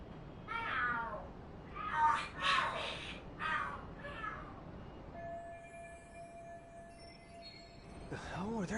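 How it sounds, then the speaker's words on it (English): Cats fight and scream in the video game Lost Judgment, with a string of shrill, wavering yowls that rise and fall. A steady tone and faint background hum come after them, then one more rising yowl at the end. "Are there cats fighting?"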